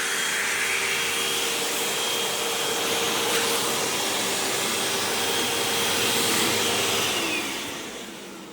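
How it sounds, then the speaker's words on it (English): A Hoover Elite Rewind Plus UH71200 upright vacuum cleaner runs steadily with a loud, airy whine and motor hum, close by, easing off slightly at the end. "Pretty good vacuum for a budget vacuum."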